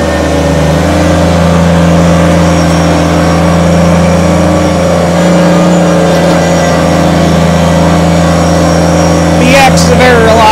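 A 2010 Kubota BX25 sub-compact tractor loader backhoe runs its diesel engine steadily in high range, a loud, close, even drone with a constant low hum and no break in tone.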